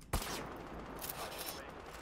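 Gunfire in an online shooter game: a sharp shot bursts at the start, then a dense rattling barrage with faint scattered pops trailing off.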